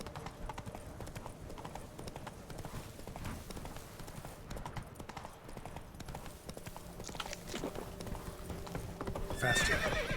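Roach, a horse in a video game, gallops with rapid, continuous clip-clop hoofbeats, and a whinny and other game sounds rise toward the end.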